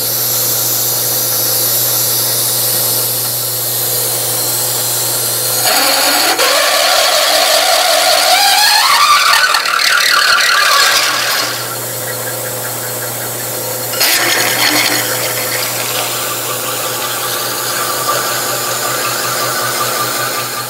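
A 1931 South Bend 11 lathe drilling a metal faceplate: a steady machine hum, then a rising, grinding whine as the bit cuts, easing off before a second shorter burst of cutting.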